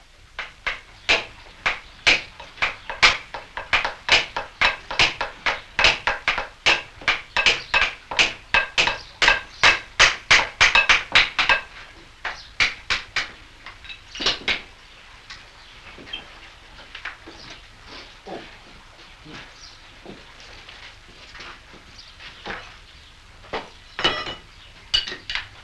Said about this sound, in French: Les clous sont bloqués avec le marteau brochoir et la tricoise amortit les coups